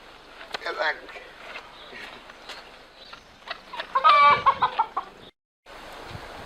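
A chicken clucks in bursts, with a louder run of agitated cackles midway, while people speak French nearby and a brief silent gap falls near the end.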